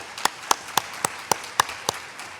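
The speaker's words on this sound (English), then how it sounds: "Let's give them a round of applause, please." A sparse handful of separate claps, about seven, spaced evenly at a brisk pace and fairly faint, from a small audience at a book festival event in a high school in Martin County.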